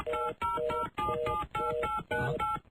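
Pre-recorded telephone keypad tones play as a sound effect: five loud, evenly spaced bursts of dialing tones, each cleanly separated by short gaps, with no one talking.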